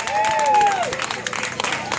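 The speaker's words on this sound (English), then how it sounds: "Big round of applause" Applause from relatives at a family history gathering, steady scattered clapping from a room of people with a few voices calling out over it.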